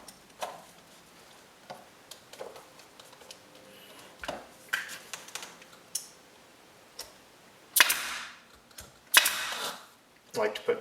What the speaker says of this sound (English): Get our staple gun.